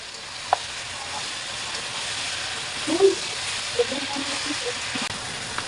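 Chicken adobo sizzles steadily in a pan as it is stirred, with soft scraping knocks from the utensil over a constant frying hiss.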